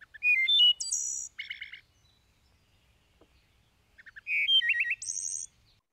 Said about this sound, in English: So here's a wood thrush.